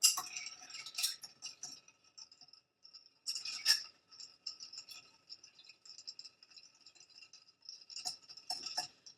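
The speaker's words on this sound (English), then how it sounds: "So take and stir that." A cocktail with orange bitters is stirred in a glass, giving a faint, light clinking rattle that comes in short irregular flurries with quiet gaps between them.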